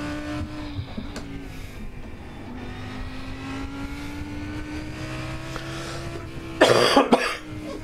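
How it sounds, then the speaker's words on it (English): A person coughs sharply a few times near the end, close and loud, over the steady engine drone of a GT3 race car in a sim-racing game. "Apologies if I cough on stream a number of times tonight."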